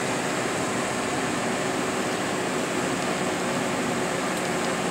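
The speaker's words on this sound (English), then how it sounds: "And the plasma will ignite." Plasma Preen 11-973 plasma system, a microwave-style unit, running after its gas-filled vacuum chamber ignites: a steady, loud broadband hum and whir that stays constant throughout, with no voices.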